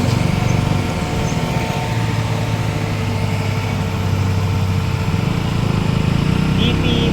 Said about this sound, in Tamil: 10 வீலர் டாரஸ் லாரி ஜல்லி ஏற்றிட்டு போகுது.